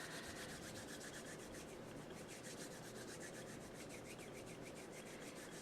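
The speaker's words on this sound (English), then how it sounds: "bring your palms together in front of your heart and rub them together" Two palms rub together in a steady, continuous soft swishing friction, close and fairly quiet, with no talking.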